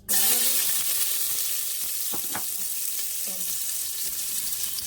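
Garlic, star anise and spices hit hot oil with a loud, bright sizzle that starts abruptly and settles into a steady frying crackle, with a few faint clinks of stirring.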